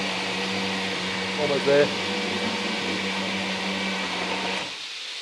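A low-powered kitchen blender whirs through Thai yellow chicken curry paste with a steady, strained droning hum that cuts off near the end, while a person briefly speaks over it.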